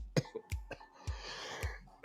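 A cluster of sharp, close coughs from a person, several separate bursts spaced unevenly over a couple of seconds, with a faint breathy murmur in between and a final abrupt cough at the end.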